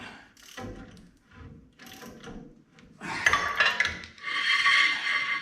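A ratchet with a 5/8 socket works a tight bolt on a 1970 Ford F250 dually truck, short bursts of clicking and metallic rubbing that grow into louder, denser ratcheting near the end, close and alone.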